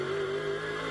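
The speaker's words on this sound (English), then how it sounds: "Through the bus stop, right, left, and then John, loud pedal to the floor." Racing car accelerating flat out through the Bus Stop chicane at Spa during a 24 Hours Super Pole lap, a steady engine drone with a slowly rising pitch, loud and continuous for the whole second.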